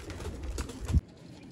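Champion flying pigeons coo and flutter in a loft among a large flock, a soft, close murmur that stops abruptly after about a second.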